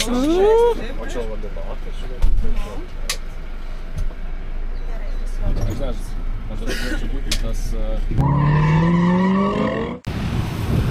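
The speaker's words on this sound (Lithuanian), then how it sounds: "Va, toks autobusiukas." A small bus travels along a road in Vietnam toward Nha Trang, its steady engine and road rumble running throughout under close conversation and a sudden high tonal squeal near the end.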